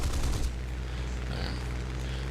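Rapid aircraft cannon bursts in the War Thunder arcade battle, a dense continuous rattle of shots heard fairly loud with a low rumble underneath, no talking.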